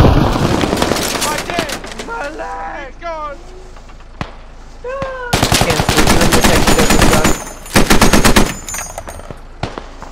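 Machine guns fire in the video game Squad: long, loud, rapid bursts hammer out again and again, with short pauses between them and voices shouting over the gunfire.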